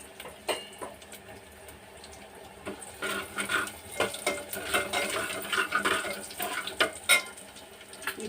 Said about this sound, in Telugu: ఇప్పుడు మన ఉల్లి వెల్లుల్లి కూడా వేసేద్దాం.